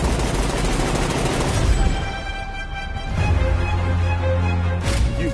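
Heavy gunfire and bursts of automatic weapons in an action movie trailer, loud and dense throughout, layered with a booming score and rumbling impacts.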